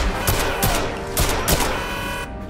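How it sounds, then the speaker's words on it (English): Gunfire in the James Bond 007 Legends video game: rapid bursts of loud, sharp shots in quick succession against a dense, constant background of game sound. "Let me have some fun shooting people"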